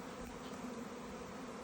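A dense, loud buzzing of a honeybee swarm being transferred into a hive box fills the air continuously, a steady droning hum with no pauses.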